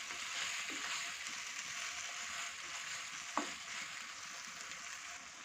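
Beef keema with green chili and coriander sizzling steadily in a pan while being stirred, a continuous soft frying hiss with an occasional scrape of the spoon, no talking.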